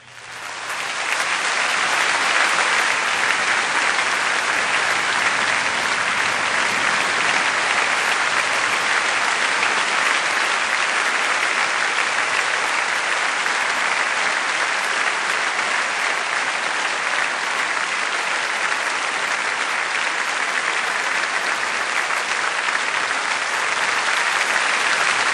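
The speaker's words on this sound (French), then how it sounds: "Applaudissements donc pour le chef qui a salué son premier violon." A concert audience applauds the conductor of the Orchestre de Vendée at Vendée-Espace, a loud, dense, sustained wash of clapping that swells in quickly and holds steady throughout.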